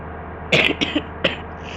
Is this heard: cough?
yes